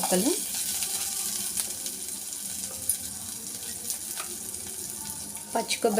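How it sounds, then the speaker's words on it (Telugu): Chillies fry in oil as cumin seeds go in for a homemade breakfast chutney, a quiet sizzle with scattered stirring clinks and a few brief scrapes near the end. "మిరపకాయలు వేగిపోయిన తర్వాత కొంచెం జీలకర్ర యాడ్ చేస్తున్నాను"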